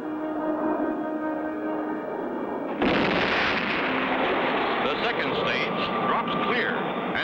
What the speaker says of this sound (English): third stage rockets light up